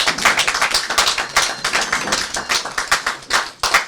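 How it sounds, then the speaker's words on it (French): An audience applauds at a televised foundation presentation in irregular bursts of claps, moderately close and without talk. "Je vous prie donc d'applaudir monsieur Faustin Kounkou."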